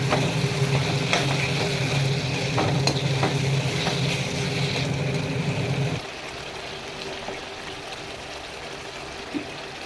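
Marinated chicken stirred and fried in a pan, with a steady sizzle and scraping stir strokes that drops to a quieter simmer partway through.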